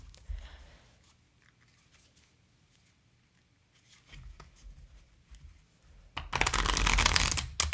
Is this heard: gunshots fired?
no